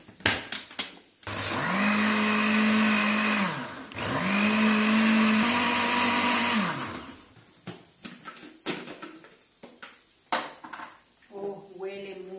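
Kitchen blender whirring loudly as it blends coriander, spinach and water, in two long runs with a short pause between, followed by clatter of jars and utensils.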